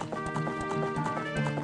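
Galloping hooves of the horse Epona in the video game The Legend of Zelda: Ocarina of Time, riding across Hyrule Field as a steady rapid clip-clop over game music.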